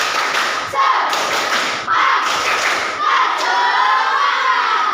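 A group of schoolchildren in a classroom doing a rhythmic spirit clap, clapping and shouting together in a loud, energetic burst, with rhythmic claps under lively crowd noise.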